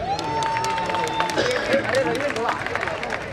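Scattered clapping from a crowd rises amid background chatter and a lingering tone, fairly close and moderately loud.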